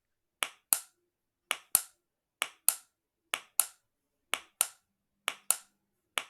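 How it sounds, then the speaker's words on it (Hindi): Lid of an opened Kissan jam jar pressed at the center, giving sharp popping clicks in quick pairs, repeated about seven times, close and crisp against silence. "इसके कैप को अगर मैं सेंटर से प्रेस करता हूँ, तो ये आवाज़ करता है।"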